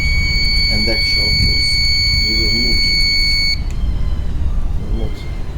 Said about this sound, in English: Auto steering giving all the time alarm.